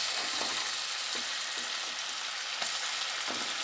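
Chopped red onion sizzling in a pot of melted fat while soup is made: a steady, close frying hiss with faint stirring knocks, no voices.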